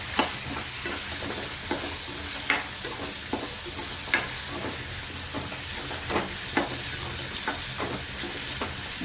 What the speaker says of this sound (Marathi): वांग पण चांगलं तेलावरती परतून घ्यायचं।